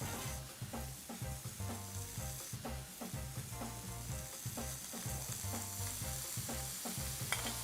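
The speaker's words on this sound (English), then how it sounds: "so a little bit of oil. We'll add the steak." Steak searing in hot oil in a Lodge cast iron pan, a loud, dense, crackling sizzle that holds steady throughout, with occasional scraping and popping close by.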